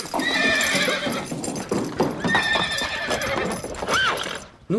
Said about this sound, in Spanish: Nunca vi un caballo así.